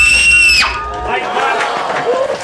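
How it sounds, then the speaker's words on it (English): A woman lets out one loud, piercing high scream in a haunted house attraction that breaks off after about half a second, followed by faint voices and room noise. "I needed a place to scream."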